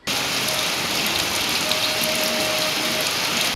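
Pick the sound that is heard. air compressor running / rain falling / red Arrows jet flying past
rain falling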